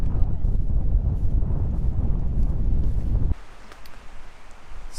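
Strong wind buffets the microphone at a campsite in Bluerock Wildland Provincial Park, a loud low rumbling roar for about three seconds that then drops to a quieter rustling gust.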